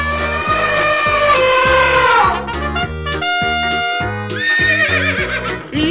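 A horse neighs in several shrill, wavering whinnies over a bouncy, rhythmic backing beat in a playful children's animal cartoon. The sound is close and loud.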